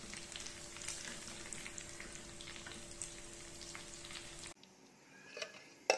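Chicken fries with a faint, steady sizzle under a low electrical hum, which cuts off abruptly into near quiet broken by a few soft clicks and a sharp knock.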